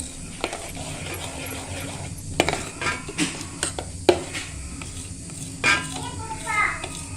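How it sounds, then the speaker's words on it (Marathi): A spoon stirs a pot of semolina batter salted for Konkan ras khaproli, scraping and clinking against the metal in irregular taps, close by, with a few faint background voices. "हे आता आपण चांगलं हलवायचं आहे"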